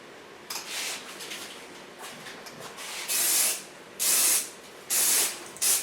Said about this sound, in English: The nice thing, you can just spray it between the hairs.